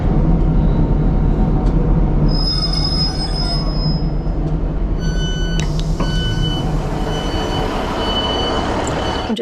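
Riding inside a UK train brings a loud, steady low rumble, with high metallic wheel squeals that come and go over the run.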